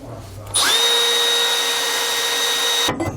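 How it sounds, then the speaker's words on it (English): A power drill whines at a steady high pitch for about two seconds, close and loud, then spins down to quiet, drilling holes to install helper springs on a 2019 Jayco Alante motorhome. "Once you get the first hole drilled, the other ones will feed right through pretty easily"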